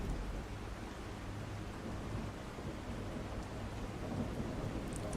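Dense, constant rain roars under a low rolling rumble of thunder in a storm in the video game Awakening the Caretaker, an even, unbroken wall of noise with no voices.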